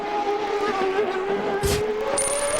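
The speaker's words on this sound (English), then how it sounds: "you hear the traction control ratcheting away as it uses electronics to interrupt the spark of the engine" A 2002 CART race car engine holds a high, steady drone during qualifying in Denver while traction control cuts the spark with a rough, stuttering crackle, and a short hiss bursts through midway.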